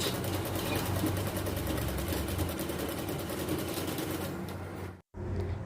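A sewing machine stitches a petticoat, running as a loud, close, continuous rapid mechanical whir that stops abruptly near the end, then starts again.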